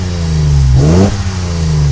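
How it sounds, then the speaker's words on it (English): A Datsun 240Z engine idles steadily, then revs up sharply once and falls back to a steady idle, loud and close. "Start with the 240Z. So give it some revs."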